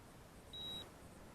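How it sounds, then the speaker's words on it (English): A radio-control transmitter for a small micro bush plane gives a single steady electronic beep of about a quarter second, faint over quiet background hiss. "let me turn off the transmitter so it stops beeping at me."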